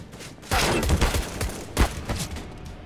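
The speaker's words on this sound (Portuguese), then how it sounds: "Eu acertei 2 tiros de USP nele e não contou nenhum!" Rapid bursts of USP pistol gunfire in the video game Counter-Strike, several close, sharp shots in quick clusters with short gaps between them.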